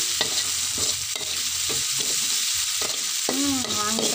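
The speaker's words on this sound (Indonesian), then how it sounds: "masukin bawang daun serai yang warna putih ya guys, dicampur. Tumis-tumis biar wangi. Terus diaduk." White parts of spring onion and lemongrass stir-fry in a hot pan, a constant loud sizzle broken by repeated scraping strokes of a spatula, with no voices.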